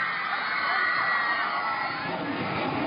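A large concert crowd of fans in a stadium in Guatemala screams for the headliner, a dense, sustained roar of high-pitched shrieks and cheers that stays loud and steady throughout.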